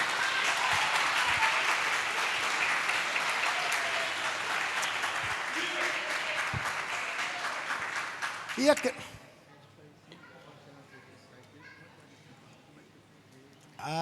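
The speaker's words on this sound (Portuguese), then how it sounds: "Você pode aplaudir Jesus, irmão?" A church congregation claps loudly and steadily for several seconds, then the applause cuts off to near quiet before a voice starts speaking.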